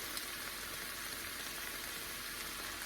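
Soy sauce sizzling and frying in a hot pan with ham, pineapple and rice, a steady, quiet hiss throughout with no talking.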